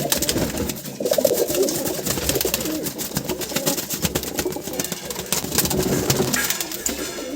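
Pigeons in a loft of birds brought from Andhra Pradesh fill the space with continuous overlapping coos, close and fairly loud, over a steady background hiss and scattered sharp clicks.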